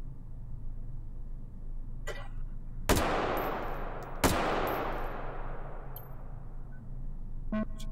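Two sharp gunshots from a firearm in the VR shooting game H3VR, spaced about a second and a half apart, each loud and crisp against a steady low background hum.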